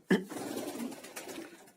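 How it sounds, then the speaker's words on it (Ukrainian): Soft, low pigeon cooing in a steady murmur after a brief louder onset, close by, with a faint rustly background. "Ось голуби, які я купив е, на виставці."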